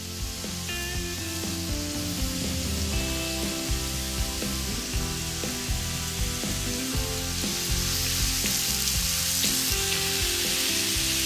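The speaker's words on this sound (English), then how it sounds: "You can hear that sizzle." Chicken souvlaki skewers laid on a hot grill give a steady, close sizzle that runs throughout, with a layer of tonal music underneath.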